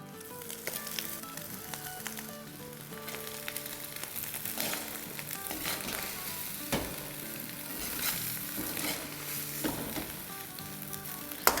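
Broken eggs and boiled rice for Chinese fried rice sizzle and crackle in a pan, a soft steady frying hiss with light stirring scrapes, close but fairly quiet, no voices.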